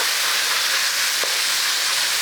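Onions sizzle steadily in rendered beef fat and oil for ground beef noodles, a close, even hiss of frying with no talk and one brief soft knock partway through.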